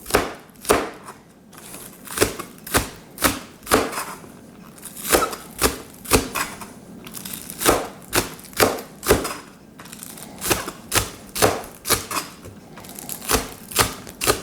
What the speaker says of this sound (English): slice them into small 1/8 inch thick rings